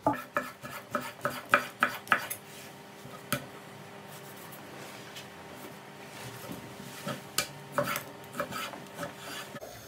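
A knife taps sharply on a board in quick repeated chops through chicken, then slower scattered cuts follow, close by and fairly quiet.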